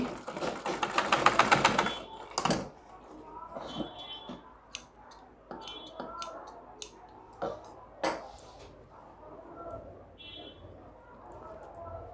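A sewing machine stitches trouser pajamas, opening with a fast, loud whirring run for about two seconds, followed by scattered ticks, clicks and short mechanical taps at a quieter level.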